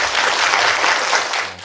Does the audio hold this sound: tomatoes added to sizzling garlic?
no